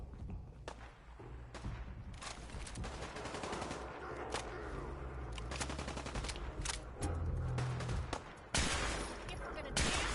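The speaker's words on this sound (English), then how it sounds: "Why are you shooting?" Gunfire in the Fallout 4 game, dense continuous shooting with sharp individual shots and thumps, fairly faint overall, ending in a heavier burst.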